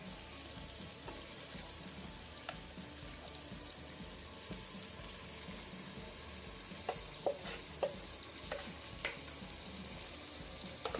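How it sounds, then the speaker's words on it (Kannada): Ground masala is added to tomatoes frying in a pan for a Mangalorean mackerel masala, giving a faint, steady sizzle with soft stirring and a few small clicks, no speech. "ಈಗ ನಾವು ರುಬ್ಕೊಂಡಿಟ್ಟಂಥ ಮಸಾಲವನ್ನು ಸೇರಿಸುವ"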